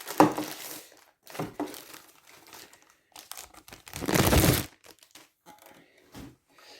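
Plastic packaging around a small wastebin receptacle crinkles and rustles close by in irregular bursts, with one longer crumpling stretch and quiet pauses between handlings.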